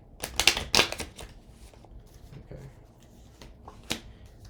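Tarot cards get a quick shuffle close by, two brisk riffling bursts followed by soft taps and scattered clicks of cards settling.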